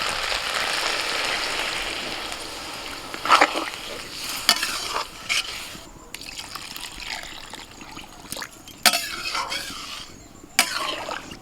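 Water poured into a pot of rice and spiced masala for paneer and pea pulao, a steady bubbling sizzle with intermittent clanks and scrapes of a spoon stirring against the pot.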